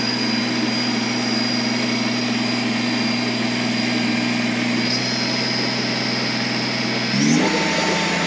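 Kubota BX2380 compact tractor engine holding steady at about 2,500 RPM, a loud continuous drone with a constant whine, changing pitch briefly near the end.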